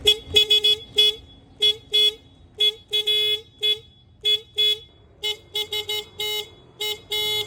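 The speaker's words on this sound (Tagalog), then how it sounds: "Ipaparinig ko muna sa inyo yung stock na busina natin." A stock car horn honks in a series of short and longer blasts, loud and close, with brief pauses between beeps and no talking.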